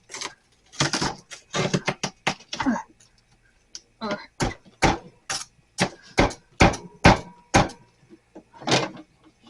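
Scraper chipping built-up ice from a mini fridge freezer, a run of sharp, separate knocks and scrapes at an uneven rhythm, close and fairly loud, with a few short gaps between bursts.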